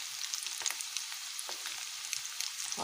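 Rice koftay frying in hot oil, giving a soft, steady sizzle with small crackles and pops scattered throughout, heard close and fairly quiet.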